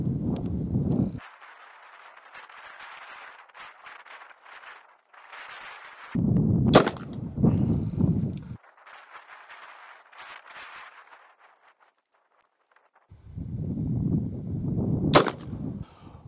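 Shotgun slugs fired outdoors through a rifled barrel, two loud isolated blasts spaced apart, each with a sharp crack and brief echo, among quieter stretches with faint background sound.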